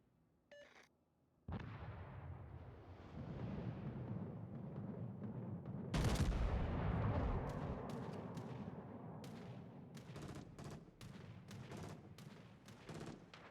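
Warship gunfire in World of Warships, deep booming salvos and rumbling blasts layered over a constant battle din, with a heavy volley partway through followed by sharper, scattered reports, and no talking.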